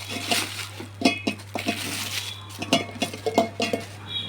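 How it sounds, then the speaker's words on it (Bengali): Plastic mixer-grinder attachment bowl and lid being opened and handled, giving a run of light clinks, taps and clatters at close range with no talking, over a steady low electrical hum. "এই যে বাটিটি আমি খুলছি,"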